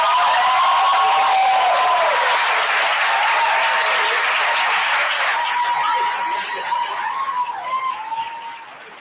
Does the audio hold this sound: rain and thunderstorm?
no